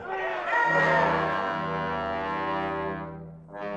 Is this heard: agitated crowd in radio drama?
yes